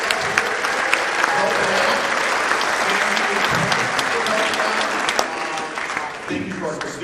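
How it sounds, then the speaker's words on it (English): An audience at a middle school winter band concert applauds a stage helper, steady full clapping throughout with a few louder individual claps and faint voices underneath, thinning slightly near the end. "a round of applause"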